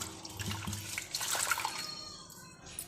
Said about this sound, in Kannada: ಇವಾಗ ಅದನ್ನು ಚೆನ್ನಾಗೆ ವಾಶ್ ಮಾಡ್ತಾಯಿದ್ದೀನಿ.